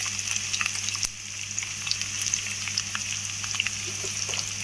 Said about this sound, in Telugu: ఇప్పుడు ఆయిల్ వేడైపోయింది, సో ఉల్లిపాయలు మనం వేస్తున్నాము.